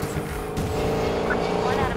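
A car engine in a racing video game roars at high speed, steady and loud, with a constant mechanical drone under brief talk.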